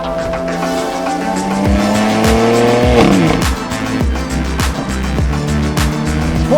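A 2020 BMW X3M Competition pulls away on a launch control start, its engine revving hard and rising through the gears while the tires squeal, loud and continuous, with sharp thumps and clatter around it.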